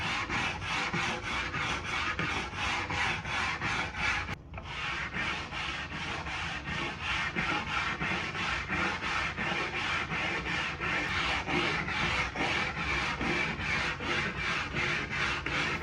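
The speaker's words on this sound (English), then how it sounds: "For that, I used a stripping brush." A stiff stripping brush scrubs paint off a wooden Lane cedar chest in fast, steady back-and-forth strokes, a continuous close rasping with one brief pause near the start.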